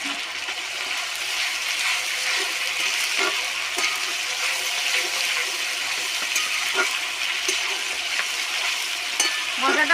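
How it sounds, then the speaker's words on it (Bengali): Spice paste of garlic, ginger and tomato sizzles steadily in a pan while being stirred, a constant close frying hiss broken by light scrapes and clicks of the spoon. "মশলাটা ভালো করে নাড়িয়ে নেব।"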